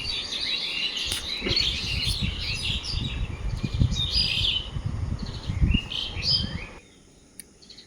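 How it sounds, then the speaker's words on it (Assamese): Several birds sing and chirp near a bamboo clump before dawn, around 4:30 in the morning, with dense overlapping calls and tweets continuing steadily before fading to near quiet at the end. "উঠি পেলাই এই চৰাইৰ মাতখিনি ৰেকৰ্ডিং কৰিলোঁ"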